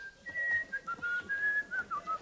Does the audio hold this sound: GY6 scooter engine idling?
no